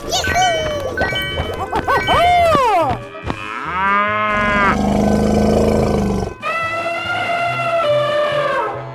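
A cow moos several times, loud and drawn out, in a playful animal sound sequence where tiger and lion roars follow the lowing.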